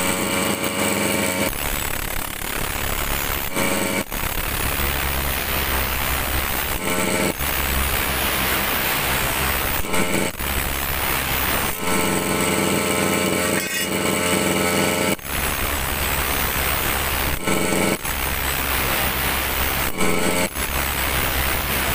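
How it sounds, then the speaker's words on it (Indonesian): A grass-cutter engine runs outdoors in a garden, driving a grinder that sharpens the cutter's blade: a loud, steady motor roar throughout, with brief dips in level every few seconds and no talking. "Mengasah ini kita lakukan dengan menghidupkan mesin rumputnya agar gerinda ini bisa berputar."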